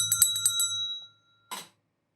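A bell rings with a few quick metallic dings that ring on and fade, then after a short silence comes a brief scraping rustle.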